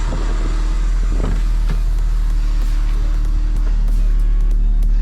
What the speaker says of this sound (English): The idle came back down pretty good, so we're just gonna vary the RPMs real quick.